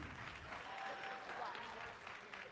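Audience clapping at a mayoral debate in Gadsden, Alabama, a steady crowd wash of applause heard faintly and at a distance, with a murmur of voices mixed in.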